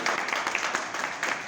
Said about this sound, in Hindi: तो समीर मोदी साहब के लिए तालियां बजाओ